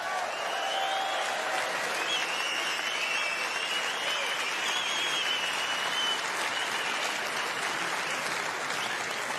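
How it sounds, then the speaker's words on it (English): Sustained, even applause from an arena crowd at a snooker Masters final, a dense wash of clapping holding steady and moderately distant throughout. "May we have one more round of applause for both finalists."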